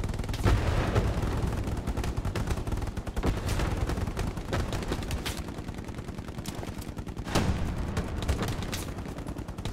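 Dense, continuous gunfire in the WWII shooter Hell Let Loose, with rapid machine-gun bursts and rifle shots layered into a loud, sustained battlefield roar. Sharper, heavier cracks stand out near the start and around the three-quarter mark.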